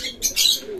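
Pigeons in a loft cooing and calling in short bursts, close and fairly loud, with a hint of fluttering.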